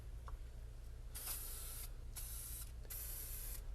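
Three short hissing bursts from a Dupli-Color vinyl and fabric paint spray can laying a light tack coat of white onto vehicle interior material, each burst about a second long with brief pauses between, close and steady over a low hum.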